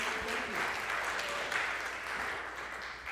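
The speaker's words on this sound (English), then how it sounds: "Big round of applause for Alan" An audience at a live night performance applauds the performer Alan, with moderately loud, continuous clapping that eases off slightly toward the end.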